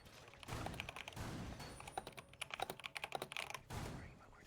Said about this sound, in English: Sorry about the keyboard